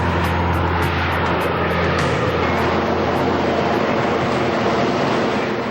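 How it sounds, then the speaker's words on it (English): A Harrier jump jet with its nozzles directed forward, slowing sharply. The jet roars in a loud, dense, continuous rumble throughout and is not interrupted by speech. "To help them slow down, the pilots direct the Harrier nozzles forwards."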